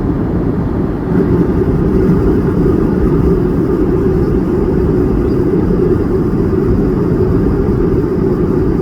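Steady, loud airliner cabin roar during a morning flight from Manila to Davao over Agusan del Sur, a continuous low engine and airflow drone with no speech.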